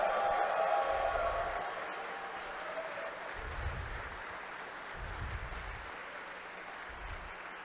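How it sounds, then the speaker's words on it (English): A large audience at the Mack Masters 2025 championship finals gives a big round of applause for the event team, sustained clapping that starts loud and settles into a steady, slightly fading roar of hands. "I need one big jumbo round of applause for my team"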